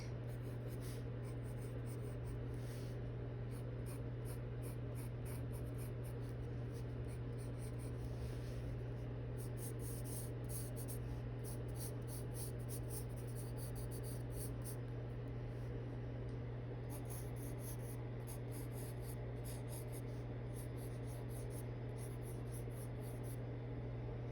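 A Caran d'Ache Luminance colored pencil shading on paper with fine, soft, steady scratching, layered over a constant low electrical hum and faint room hiss. The pencil is held far back while adding darker details. No one speaks.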